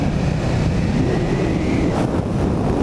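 A KTM Super Duke 1290R motorcycle's exhaust gives a loud, steady, deep engine rumble, heavily buffeted by wind noise throughout, with no talking.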